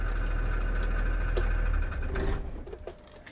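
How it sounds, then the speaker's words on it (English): A school bus diesel engine with an Allison transmission idles with a steady low rumble, then winds down and cuts off about two seconds in, leaving quieter mechanical ticks and faint clicks behind. "So now I'm gonna turn off the engine."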